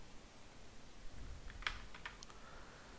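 A computer keyboard types a command, a short run of faint clicking keystrokes clustered mid-clip over a low background hiss.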